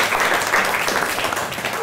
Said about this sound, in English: Give a clap to Catherine.